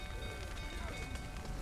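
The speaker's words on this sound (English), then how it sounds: "Looks like rain." Steady rain in The Witcher 3: Wild Hunt, a faint continuous hiss of falling drops with a low windy rumble and no distinct individual events.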